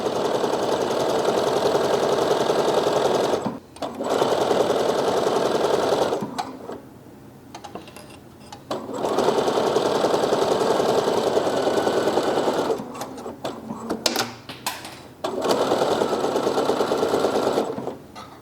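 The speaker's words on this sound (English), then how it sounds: "I'm gonna hem. I have my even feed foot on too, just to make sure it pulls through nice." A sewing machine hemming jersey knit fabric with an even feed foot runs in long steady buzzing stretches, stopping briefly between runs, with soft handling clicks in the pauses and no talking.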